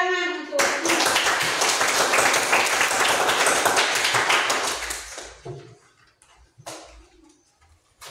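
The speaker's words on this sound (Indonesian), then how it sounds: "Tepuk tangan untuk Indra" An Indonesian class of eighth-grade students bursts into applause for a classmate, a dense, lively round of many hands that holds strong for about four seconds, then thins out and fades into quiet room sound.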